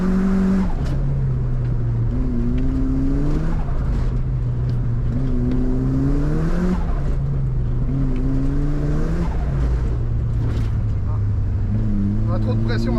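Turbocharged Mercedes W124 with K-Jet injection revving repeatedly, each rise climbing in pitch and then dropping back, loud and close, with people talking over it.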